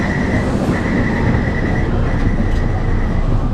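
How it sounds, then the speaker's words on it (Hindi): A train rolls into a station in Taiwan with a continuous loud rumble of wheels on rails and a thin metallic squeal running above it, close by, with no voices. "और ये ट्रेन भी आ गई है।"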